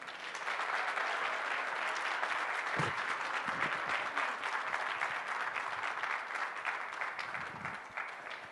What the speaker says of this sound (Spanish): Pero un aplauso, por favor.